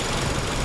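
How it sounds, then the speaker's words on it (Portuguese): A 2005 Toyota Corolla 1.8 16v VVT-i engine idles smoothly after fuel injector cleaning in a mechanic's workshop, a steady, even low hum held close and loud for the brief moment. "Nosso cara aqui já funciona. Sereninho, né, motor."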